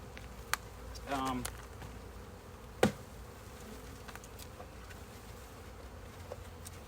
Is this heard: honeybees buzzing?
yes